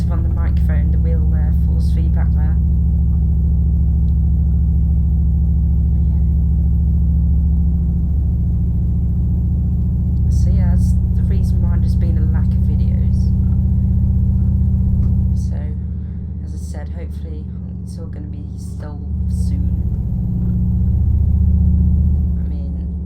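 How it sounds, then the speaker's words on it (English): Force feedback in a steering wheel rig playing Euro Truck Simulator 2 in a MAZ 5440 A8 truck, a constant deep mechanical rumble and hum through potholes, loud and close, with someone talking over it at times. "You can probably hear that getting picked up on the microphone, the wheel force feedback there"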